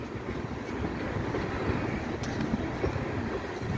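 A Norfolk Southern freight train rolls past on the Delair Bridge, a steady close rumble of wheels and rail cars with faint clicks and squeal over nearly four seconds.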